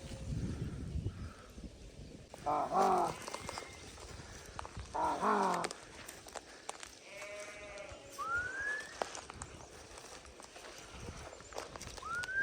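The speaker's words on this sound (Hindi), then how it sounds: "हमारी भेड़ बकरियाँ चारा खाती हुई आगे की तरफ निकल रही है" Flock of sheep and goats grazing in a remote deodar forest, with repeated bleats coming in clustered bursts against a rustling outdoor background, some calls near and loud, others fainter and farther off.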